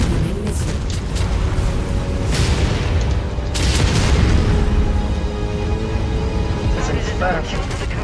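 Incoming missile explosions in MechWarrior 5, heavy booming blasts rolling over a loud, dense combat rumble, with a few sharper impacts standing out.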